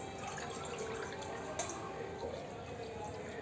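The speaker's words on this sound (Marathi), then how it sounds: "ह्याच बाऊलमधून दोन बाऊल पाणी टाकते" Water from a bowl pours into a pan on a gas stove, two bowls of it for sugar syrup for gulab jamun, a steady close trickling and splashing that runs throughout.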